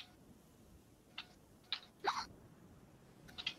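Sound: hiccups

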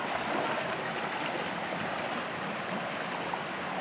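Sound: water flowing through a fish ladder

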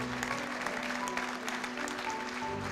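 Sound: audience applause for the exhibitors

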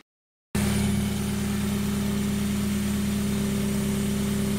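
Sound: Mazda Miata engine idling with custom intake, MAF deleted

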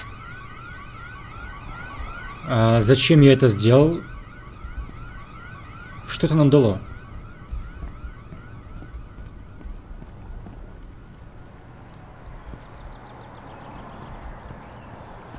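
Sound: fire alarm siren in video game INFRA

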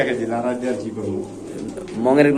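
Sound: pigeons cooing

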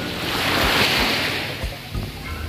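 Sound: ocean waves at beach front campsite

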